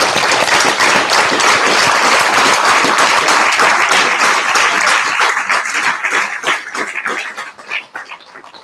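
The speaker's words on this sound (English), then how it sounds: "big applause for your coaches" An audience at a final-presentations event loudly applauds the coaches, with dense, energetic clapping that thins into scattered claps and fades out over the last couple of seconds.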